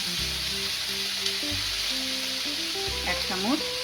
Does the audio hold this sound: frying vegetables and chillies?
yes